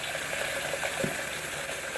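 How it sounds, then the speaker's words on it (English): Cold water runs from a tap into a container being filled to clean a Hunter ceiling fan, a steady close hiss with a brief splash partway through. "start filling this with some cold water"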